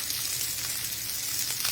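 Brussels sprouts sizzling and browning in a hot frying pan, a continuous close crackling hiss with no talk.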